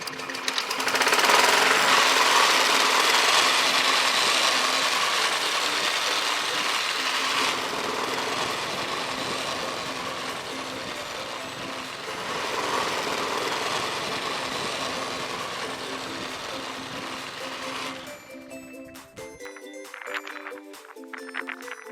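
A lawn mower fitted with a thatching blade dethatches a lawn, a loud, continuous engine roar with a raking, rattling texture that holds steady for a long stretch before dropping off near the end.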